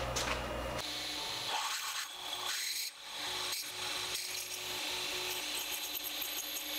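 A drill with a 15/64 pre-ream bit grinds into material with a steady rasping whine, the pitch and pressure shifting as the bit bites and eases off.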